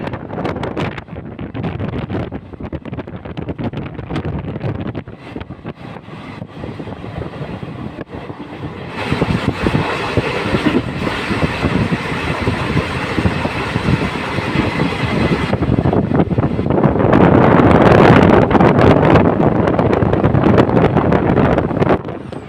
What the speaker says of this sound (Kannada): ಯಾವುದೋ ಟ್ರೈನ್ ಆಪೋಸಿಟ್ ಟ್ರ್ಯಾಕಲ್ಲಿ ಬರ್ತಿದೆ. Karatagi to Yeshwanthpur train.